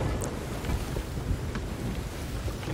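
Wind and rolling ocean waves wash around a brigantine sailing ship in a video game, a steady, rumbling roar of gusts and surf with no voices.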